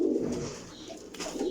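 A Teddy pigeon held in the hand gives low, close throaty coos, a couple of soft rolling calls over a short stretch with no talk.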